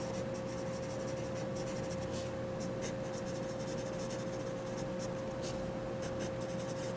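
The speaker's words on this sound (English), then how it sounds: "How does it write? Of course this is going to write extremely well," Staedtler HB graphite pencil drawn steadily across paper, a continuous soft scratchy scraping with short stroke bursts, close and alone over a low steady background hum.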